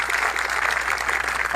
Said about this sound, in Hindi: उसको जोरदार तालियों से स्वागत करो।